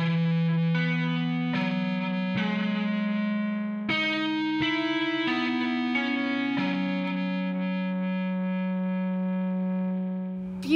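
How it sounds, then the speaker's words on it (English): Music Man guitar amplifier turned all the way up, captured close by a Royer ribbon microphone: sustained, overdriven guitar chords ring out one after another with heavy distortion and a long fading tail. "It's a Royer ribbon microphone recording a Music Man amplifier, and it's cranked, man."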